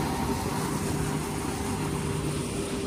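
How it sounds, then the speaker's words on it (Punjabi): An engine runs at a steady idle, a low, even droning hum with a faint tonal whine, moderately quiet and unchanging throughout, with no talking over it. "ਇੰਜਣ ਦੀ ਆਵਾਜ਼ ਦੇਖ ਲਓ"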